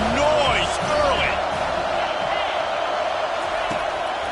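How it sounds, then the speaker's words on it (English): Stadium crowd in the NCAA 25 college football video game, a loud, dense roar of cheering and whoops that holds steady throughout, with commentary voices mixed in. "This crowd bringing the energy and noise early."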